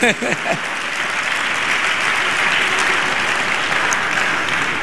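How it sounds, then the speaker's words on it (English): Audience applause fills a public birthday lecture hall, a dense, steady wash of many hands clapping that holds at an even level throughout, with a few brief voices near the start. "please clap for my husband"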